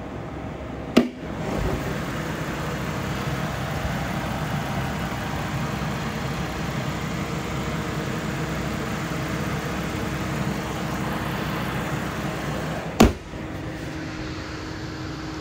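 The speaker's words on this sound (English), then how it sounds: "I do want to show you and let you hear under the hood while it's running" Under the open hood of a low-mileage 2014 Ford Mustang Premium convertible, the engine idles in a steady, loud, even drone from start to finish, with a sharp click near the start and another near the end.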